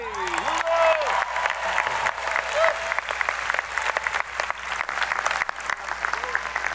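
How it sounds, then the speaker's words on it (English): A university commencement crowd claps steadily for several seconds, a dense continuous applause with a voice briefly audible near the start. "Another round of applause for Hugo,"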